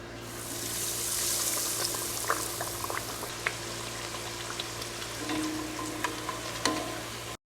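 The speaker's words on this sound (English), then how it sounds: "Bring the oil temperature to 350 degrees Fahrenheit and fry for 3 to 5" Breaded carp fillets deep frying in oil at 350 degrees Fahrenheit, a continuous loud bubbling hiss with small pops and crackles scattered throughout, close by and without speech.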